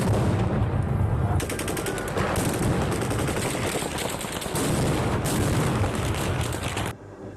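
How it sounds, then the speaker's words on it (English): Gunfire from Russian occupiers shooting, a long stretch of rapid machine-gun bursts and scattered shots, loud and sustained with brief lulls before stopping near the end. "In response, the occupiers began shooting. They are shooting. Russians are shooting."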